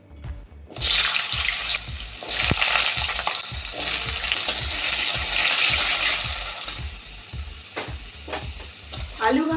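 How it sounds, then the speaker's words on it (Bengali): Thin finger-length potato strips fry in hot oil with a loud, steady sizzle, while a spoon scrapes and stirs them in a rhythmic, repeated pattern, close and continuous with no talking. "এবার আমি লম্বা করে এরকম আঙুলের মতন সরু সরু করে দুটো আলু কেটে রেখেছি, এই আলুটা ভেজে নেব।"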